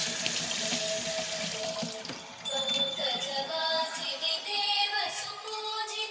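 A tap runs steadily into a sink, water splashing and gurgling continuously at close range with slight shifts as the flow is disturbed.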